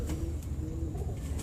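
A pet golden dove coos softly up close, a few low, rounded throaty calls repeating in a brief rhythm.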